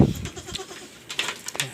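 Goats bleat in short bursts, a few calls spaced across the moment, fairly close with light background noise.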